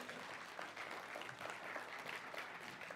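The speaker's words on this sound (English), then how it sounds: "Can we give a round of applause for Molly?" An audience claps in sustained, dense applause, heard at a fairly low level without any voices over it.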